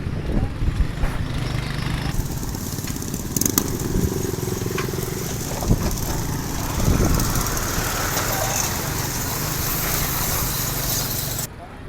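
A motorbike engine drones steadily up close with rattling, bumpy crackles from a rough, broken road in Karachi, wind noise and occasional faint voices mixed in.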